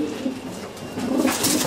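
Pigeons coo in a fancier's loft, soft repeated throaty calls held close and steady with no talk over them.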